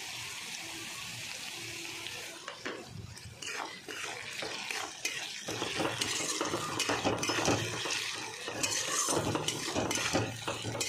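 Potatoes frying and being stirred in a pan, with a metal spoon scraping and clinking against the pan over a steady sizzle, busier and louder in the second half.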